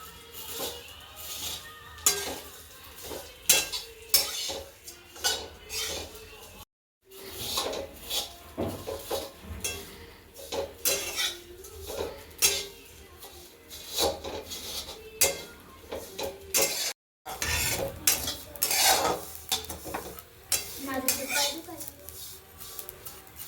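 Vermicelli roasting in a pan for shevai kheer, stirred with repeated scraping and rubbing strokes in a steady, uneven rhythm, close and moderately loud, with two brief silent gaps.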